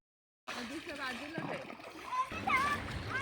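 People splash in a full monsoon river near a village, with water sloshing and breaking in bursts while a child and others call out over it.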